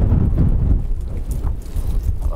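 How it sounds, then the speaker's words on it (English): Strong wind buffets an action camera microphone outdoors on a stormy winter night, producing loud, continuous low rumbling gusts with no speech. "It's really windy."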